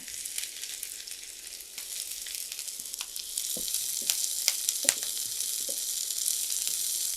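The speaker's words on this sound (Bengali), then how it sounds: "কিছুটা তেল দিয়ে দিলাম এখন পেঁয়াজ দিব এখানে তিনটা পেঁয়াজ" Onions frying in mustard oil, a steady hiss of sizzling with sharp crackles and pops that grow busier partway through, close and alone with no voices.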